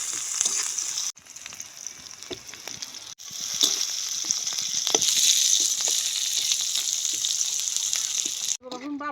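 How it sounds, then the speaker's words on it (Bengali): Garlic and onion sizzle and fry in hot oil for red amaranth greens in a village-style kitchen, a steady bright hiss broken by two short pauses and a clatter at the end. "রসুন আর পেঁয়াজ শাকে দেব এগুলো ভালো একটু বাজিয়ে নেবো"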